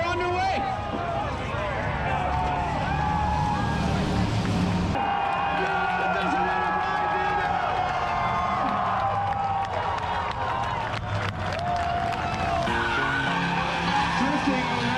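A race car drifts in a competitive event, its tires squealing in long sustained screeches alongside engine roar and a distant crowd, with an announcer commentating throughout.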